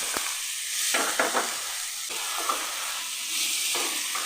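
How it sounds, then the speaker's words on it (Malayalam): Chopped onions frying in a pan, stirred in bursts so that scraping strokes rise over a continuous hiss of hot oil, close and fairly loud. "ഇനി ഇതിലേക്ക് നമ്മൾ ചോപ്പ് ചെയ്തെടുത്ത സവോള ചേർത്ത്"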